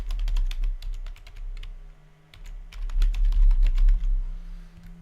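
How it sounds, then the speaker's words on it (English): Computer keyboard keys typed in quick uneven bursts with brief pauses, close and clear with no voices, as a username is entered. "let's put in my username"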